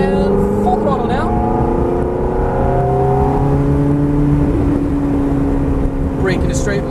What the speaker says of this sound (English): Back on the throttle, and full throttle now.